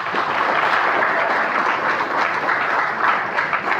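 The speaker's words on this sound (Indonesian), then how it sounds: "Tepuk tangan sekalian." An audience at a talk on tolerance and young people claps, with dense, steady applause from many people that holds at an even level throughout.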